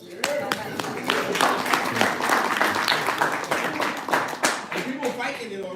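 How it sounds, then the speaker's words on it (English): Lively clapping from a live audience, dense and close with sharp individual claps, steady for several seconds and tapering off, voices faintly mixed in. "Give yourselves a round of applause."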